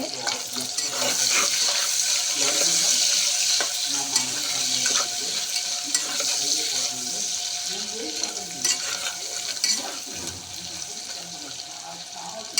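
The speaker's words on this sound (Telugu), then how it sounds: "కొన్ని ఆనియన్స్ ఇవి కొద్దిగా ఫ్రై అవనివ్వాలి" Onions fry and sizzle in a pan with mint for an egg dish, a steady, close hiss broken by occasional stirring scrapes; a voice talks faintly underneath.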